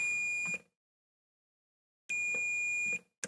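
An Xbox Series S with a shorted 12-volt circuit board emits a continuous high electronic beep that cuts out, then resumes for about a second before a brief final chirp, with silence between.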